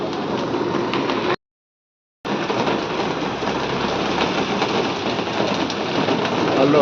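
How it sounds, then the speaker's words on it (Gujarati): Steady, heavy rain pouring down outside a shop, a constant hiss that cuts out briefly for about a second before continuing. "આકાશ તો બારે ચાલુ થઈ ગયો છે વરસાદ"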